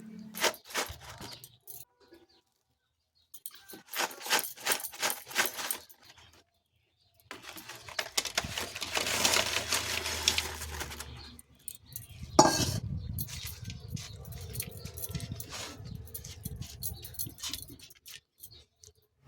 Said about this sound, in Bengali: ম্যাগি মশলাটাকে ভালো করে মাখিয়ে নিচ্ছি।